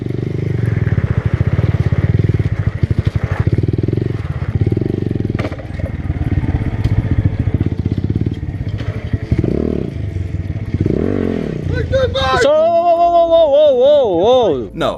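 A motorcycle engine drones loudly while wheelies are practiced on a dead-end road, its note rising and falling under frequent voices, and the end is dominated by a siren-like wail.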